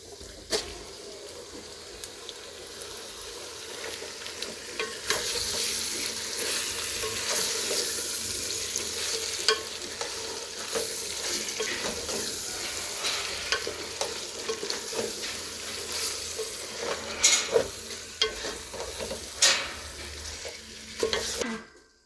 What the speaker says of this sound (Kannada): ಈಗ ನೋಡಿ ಮ್ಯಾಗ್ನೇಟ್ ಮಾಡಿರೋಂಥ ಚಿಕನನ್ನು ನಾನೀಗ ಇದರಲ್ಲಿ ಹಾಕ್ತೀನಿ.